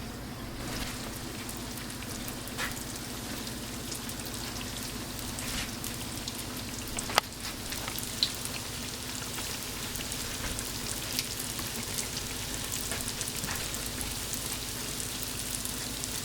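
A batch of homemade donuts frying in hot oil on a woodstove, a steady, close crackling sizzle with scattered pops running evenly throughout, no voices.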